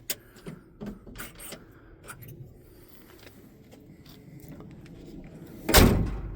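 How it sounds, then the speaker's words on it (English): A heavy 1970 Dodge D100 pickup truck door swings shut with a solid, close thud near the end, after a few light clicks and quiet handling sounds. "I love the way those doors close"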